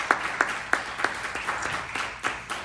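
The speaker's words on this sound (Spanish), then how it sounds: "Denle un fuerte aplauso a nuestro Dios" Church congregation clapping in praise to God during a Spanish-language service, a steady patter of many hands with a few sharper individual claps standing out, moderately close and without talk.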